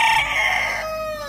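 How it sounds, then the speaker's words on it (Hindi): A rooster crows once, close and loud, in a rural home setting, its long call rising and then trailing off with no voices over it. "मुर्गा बोल रहा है तो वाकई सही बता रहे हैं आप।"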